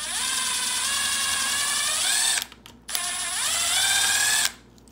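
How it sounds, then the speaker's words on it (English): A power drill with a self-tapping screw drills out quarter-inch rivets on an Air Scrubber Plus unit, whining loudly in two long bursts that rise and fall in pitch with a brief pause between, no voices. "you get a drill with a self-tapping screw, and you just drill out these rivets here"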